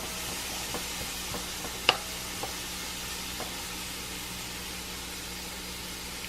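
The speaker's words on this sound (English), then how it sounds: "I'm going to move them around so they all get cooked evenly." Vegetables for chicken tortilla soup cook in a pot with a soft, steady sizzle, while a spoon stirs them with scattered light scrapes and one sharper clink; nobody speaks.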